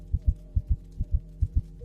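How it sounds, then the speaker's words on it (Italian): A heart beats loudly in a steady lub-dub rhythm, four paired thumps close and heavy over a low hum, alone without voices. "Resta l'eco del cuore che batte troppo forte."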